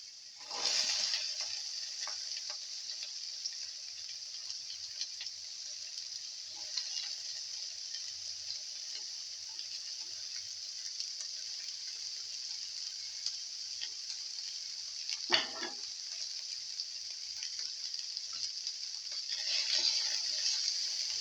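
Onion pieces fry in a sauté mix, giving a steady, bright sizzle throughout with occasional clinks and scrapes of stirring, close and moderately loud, with no voices.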